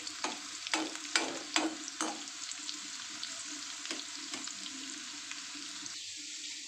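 Cumin seeds frying in oil in a pan with chopped garlic and ginger over medium heat, a steady soft sizzle broken by several sharp scraping stirs near the start, fairly quiet throughout.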